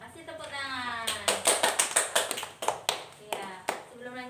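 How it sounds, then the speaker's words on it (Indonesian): Children clapping in a classroom during a science lesson, a burst of sharp, uneven hand claps under a teacher's voice, starting loose and fading into scattered claps. "kasih tepuk tangan"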